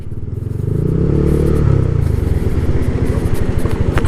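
A motorcycle jolts along a rough road, a steady low engine hum swelling louder before breaking into a fast, uneven clatter of bumps, close and without talk.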